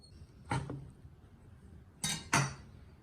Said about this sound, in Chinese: 切这个烧肉，尽量用锋利一点的刀，切片刀是最合适。